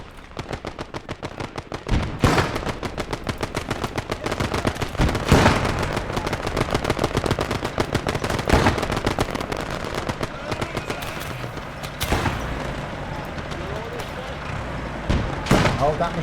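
Rapid machine gun fire rattles through a Ham and Jam video game battle, with continuous bursts punctuated by heavier blasts and explosions, while voices call out over the shooting.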